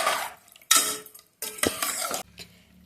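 A spoon scrapes and stirs chicken sambar inside a pressure cooker, giving three bursts of clattering metal-on-metal scraping separated by short pauses, close and fairly loud, with no talking.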